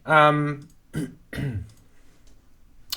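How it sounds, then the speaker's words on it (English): A throat clearing, a short harsh burst followed by a couple of brief vocal grunts, close to the microphone, then quiet. "excuse me if I clear my throat, forget to press the mute button"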